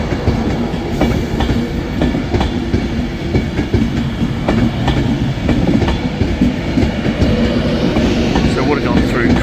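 A tilting train runs on the rails near Manchester, a loud, close, steady rumble with rhythmic clickety-clack of wheels over rail joints throughout.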